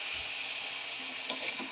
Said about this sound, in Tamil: பாருங்கள், நல்லா வதங்குது.